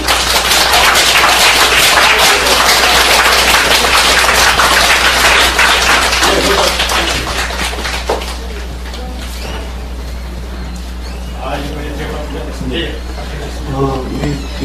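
Loud, dense applause from a crowd at a religious council's invited lecture, filling the opening seconds and then fading into quieter room noise and speech.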